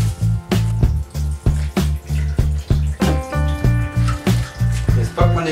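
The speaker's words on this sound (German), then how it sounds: "Jetzt befüllen wir den einfach mit Wasser." Water pours into a Brita filter jug in a rhythmic run of gurgling splashes, each burst repeating about twice a second, close and fairly loud, with faint ringing tones building toward the end.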